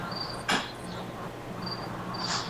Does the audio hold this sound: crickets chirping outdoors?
yes